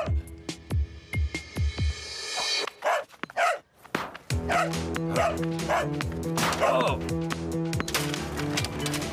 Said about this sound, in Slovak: Komu patrí ten pes?